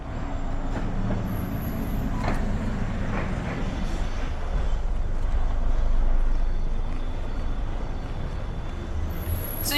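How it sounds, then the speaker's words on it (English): Urban street ambience built for sound design: a low continuous city rumble with a train rolling in the distance, faint metallic squeals and clanks, and scattered distant activity, with no voices. "So you can hear like a train in the distance, you can hear all kinds of stuff in the distance."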